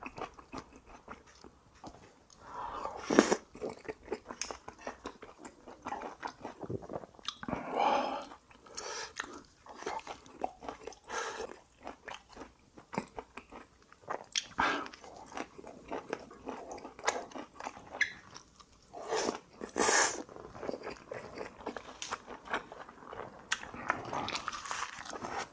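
Close-up chewing of tteokbokki with thin-sliced pork belly and brisket wrapped in lettuce, with repeated crunchy bites and wet mastication sounds in an uneven rhythm, loud and intimate, with occasional faint breaths.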